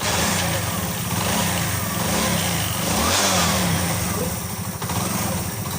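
A motorcycle engine starts and revs at a spare-parts market, a loud, rising and falling drone with steady background noise and people talking nearby.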